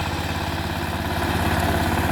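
A power tiller's engine runs loud and close at a steady idle-like chug, a continuous even mechanical drone throughout with no talking.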